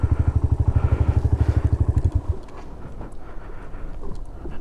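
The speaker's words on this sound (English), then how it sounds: "So I'll just quickly move the bike down there." Suzuki VanVan motorcycle engine idling close by with a steady, rapid single-cylinder thump, which cuts out after about two seconds, leaving quiet background rustling.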